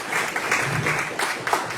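Audience applause at a book panel discussion about turning a thesis into a book, a short burst of clapping from a modest crowd, dense and even throughout.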